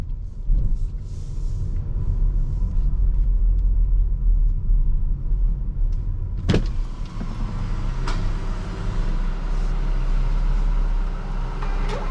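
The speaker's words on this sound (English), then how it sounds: "you can hear the turbo" Turbocharged 160 hp mild-hybrid engine of a 2024 Renault Arkana SUV driving at night, a steady low rumble of road and engine noise with a sharp burst around the middle and a brief whoosh-like rise afterward.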